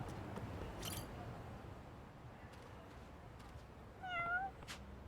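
A cat meows in the video game Lost Judgment, two short rising calls close together near the end over a low steady game ambience, with a faint chirp earlier.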